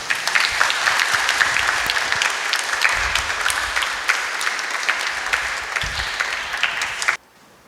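Wedding guests burst into loud, sustained applause that rolls on for several seconds. The clapping is dense and close, with a faint crowd murmur underneath, then it cuts off abruptly.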